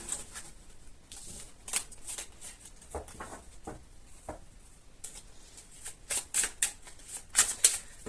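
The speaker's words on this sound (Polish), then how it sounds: "A teraz przechodzimy do tasowania i do czytania." Tarot cards being shuffled by hand, a run of soft papery riffles and slaps that grow denser and crisper toward the end, close and alone with no talking.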